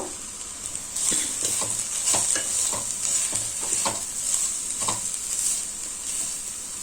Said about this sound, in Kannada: ಇದನ್ನು ಅಷ್ಟೇ ಎಣ್ಣೆಯಲ್ಲಿ ಬಾಡಿಸ್ಕೊಳ್ಬೇಕು